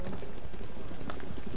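Horse hooves gallop steadily in Ghost of Tsushima, a dense, continuous pounding of hoofbeats that stays close and fairly loud throughout, with no talking over it.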